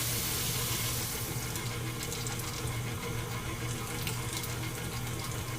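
Tap water runs continuously into a bowl while making cuttlefish ink pasta dough, a close, loud, steady gushing stream with no pauses.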